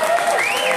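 A live concert crowd applauds a bassist with a steady wash of clapping and a few cheers, while a sustained sliding tone rings over the top.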